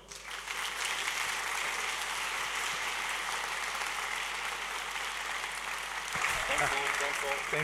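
A keynote audience at a Java developer conference in Berlin breaks into sustained, even applause that fills the hall for several seconds, swelling slightly near the end with a few voices.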